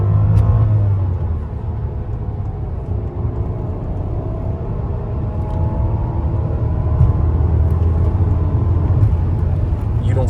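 A 563-horsepower luxury SUV accelerating hard, its engine a deep, steady rumble that swells slightly as speed builds, heard from inside the cabin with no talk over it.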